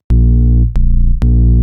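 A Logic ES2 synthesizer's monster sine synth bass patch plays three loud, sustained low notes, each with a sharp attack and a thick, buzzy, distorted tone; the middle note is shorter and lower, with no talking.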